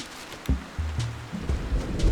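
Rain falling in the video game Animal Crossing, a soft continuous patter with low tonal thumps underneath, faint and short.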